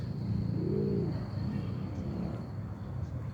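Pigeons coo softly in a park in Greece, a low warbling call rising near the start against steady outdoor background hum, faint and unaccompanied by talk.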